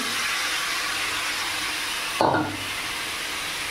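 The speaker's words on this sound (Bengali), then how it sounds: "এবার আমি গ্যাসটা কমিয়ে দিচ্ছি, কমিয়ে দিয়ে এখানে বাঁধাকপিটা দিয়ে দেবো।" Cabbage drops into a pan of oil-fried spices on a lowered gas flame, a short thick burst of sizzle that then settles into a steady hiss, with no talking.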